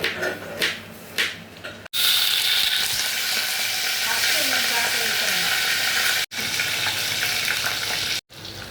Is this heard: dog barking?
no